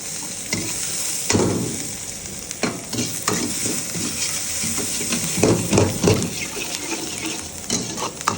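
Egg, peas, beans, carrot and capsicum stir-fried for mixed fried rice with prawn and chicken in a hot pan, a steady close sizzle broken by repeated scraping and clattering stirs, with no voices.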